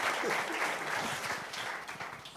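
Dense, continuous applause from an audience at a writers' weekend event in Paris, a brief steady burst of many hands clapping at moderate distance.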